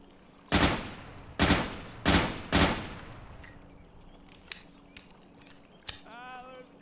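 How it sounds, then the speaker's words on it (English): Gunfire in the video game Intruder: four loud, sharp bursts of shots in quick succession early on, then scattered fainter pops and a brief chirping sound near the end. "There's gunfire everywhere."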